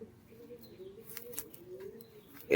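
Western Giribaz pigeons cooing in a low, steady, fairly quiet murmur, ending in a brief louder sound.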